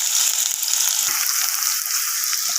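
Chopped onions going into hot oil in a pot while making mash dal, a steady bright sizzle with a few soft stirring knocks and no talking.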